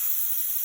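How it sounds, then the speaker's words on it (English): Airbrush spraying glaze paint onto paper gives a short, steady, bright hiss that stays even from start to end, with no voices. "I am going to just gently spray this onto a model, onto a bit of paper."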